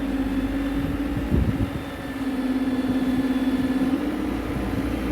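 A tractor engine runs steadily during a manure-dumping job on a farm, a close, even mid-pitched drone with a brief heavier surge partway through and no voices.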